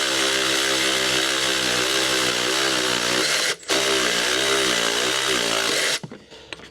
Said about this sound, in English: I'm going to hit it with the power tools